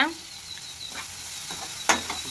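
Onions and tomatoes sautéing in a pan for a squid curry give off a steady, close sizzle, with a few brief stirring clatters partway through.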